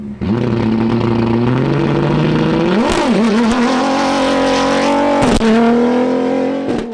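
Rally race cars on a Sonora road roar close by, engines revving and shifting pitch as one sweeps past, then a sharp burst and another car accelerating, loud and near throughout.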